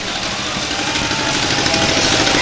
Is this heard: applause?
no